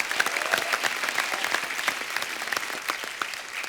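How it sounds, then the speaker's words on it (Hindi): Studio audience applause at a comedy talk show honoring the Indian women's cricket team, steady dense clapping throughout, close and loud, with no talking over it. "जोरदार तालियां होनी चाहिए।"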